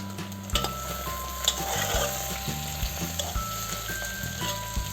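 Onions sizzle steadily in hot oil in a pan while a utensil stirs them, producing soft scraping clicks over the continuous frying hiss, with no voices.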